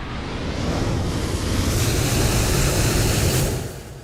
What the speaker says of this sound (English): someone's engines are super loud over there